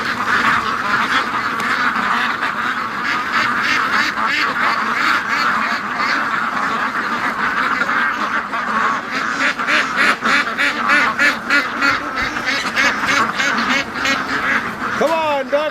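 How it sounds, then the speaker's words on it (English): A flock of farm ducks quacks loudly and continuously, a dense overlapping chorus of many birds rushing down to a lake in the morning, close by throughout. "Come on, ducks."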